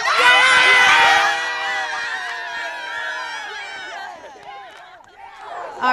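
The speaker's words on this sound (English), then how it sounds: "how about it for Westside's cheering section?" Westside High School's cheering section roars and screams in the stands at a night football game against Aquinas, loud and dense at first, then easing to a steady crowd din before swelling again at the end.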